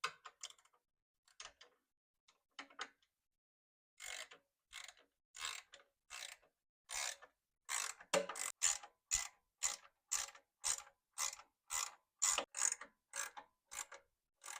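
Ratchet wrench clicking in repeated bursts while tightening exhaust bolts on a 2021 Harley-Davidson M8 Road Glide with an S&S 2-into-1 exhaust, a few sparse clicks first, then steady rapid loud ratcheting strokes close by, no talking.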